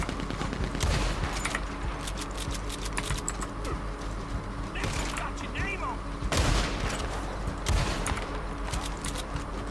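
Black powder guns are fired in the Western video game Red Dead Online, giving sharp, loud shots at irregular intervals over a dense, noisy game soundscape with clicking in the background.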